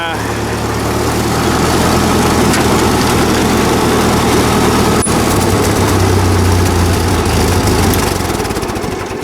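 A 1944 Ford 2N tractor engine fitted with a Chinese copy of a Ford carburetor runs loud and close at a steady, even idle, with a voice talking over it.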